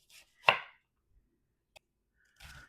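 A knife slicing through an onion on a board, a few separate cuts: one crisp louder stroke followed by a tiny tap and a softer final cut, close and quiet with no talking.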